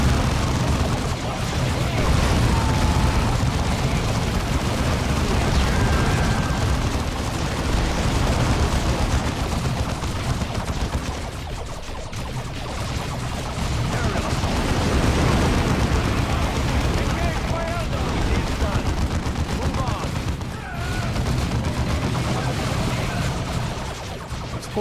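Sustained battle noise from the strategy game Dawn of War II, with Space Marines firing on Eldar: dense, continuous gunfire and crashing impacts that stay loud throughout, with no clear gaps between volleys.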